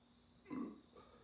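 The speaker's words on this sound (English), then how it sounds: "Gonna burp real quick." A single short burp, close to the mic but quiet overall, rising briefly and fading with a small trailing gurgle.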